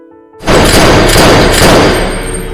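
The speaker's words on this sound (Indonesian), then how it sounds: "Komarov pun lalu membunuh Alec dengan menembakkan pistol tepat di kepalanya" Pistol gunshot from the action film A Good Day to Die Hard: a single loud, sudden blast after a brief hush, followed by a sustained booming rumble and reverberation that slowly fades.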